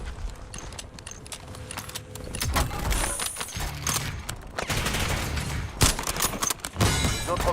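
Dense bursts of gunfire in a Call of Duty resurgence match, rapid crackling shots and metallic rattles fired continuously at close range, loud and chaotic.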